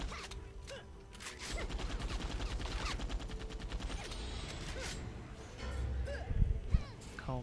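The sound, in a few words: Blasticus assault rifle firing in video game Dungeon Defenders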